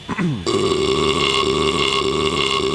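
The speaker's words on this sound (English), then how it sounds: "edited a burp every time he shoots at you" A comedic burp effect edited over shots in the PS1 game Mega Man X5: one long, loud, throaty belch rumbles on for a couple of seconds after a brief rising squeal.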